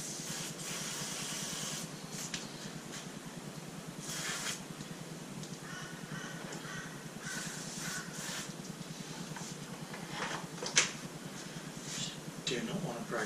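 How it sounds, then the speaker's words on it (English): Silicone spray hisses steadily onto a fuel filter fitting on a KTM 1190 motorcycle, a close, continuous broadband spray running the whole time with a few brief louder puffs and some talking underneath. "Yeah, the old silicone spray."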